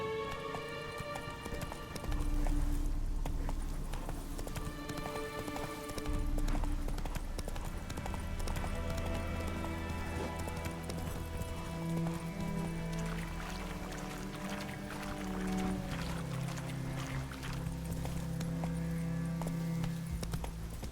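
A horse clip-clops at a steady rhythmic gait in The Witcher 3 played on Xbox Series X, the hoofbeats continuous and close under a sustained musical score.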